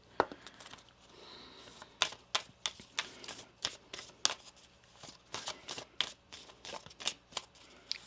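Tarot cards shuffled in repeated crisp riffles and slaps, a steady run of sharp bursts close to the listener with no talking.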